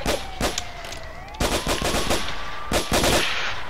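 Bursts of automatic gunfire in the multiplayer game MTA (GTA), loud rapid volleys separated by short pauses, with a steady engine tone running underneath.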